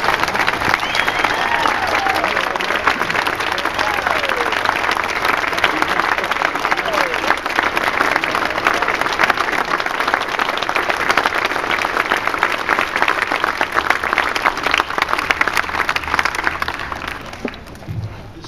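Sustained applause from a rally audience greeting Dr. Tom Coburn at a limited government event, dense steady clapping filling the room for many seconds before tapering off at the end.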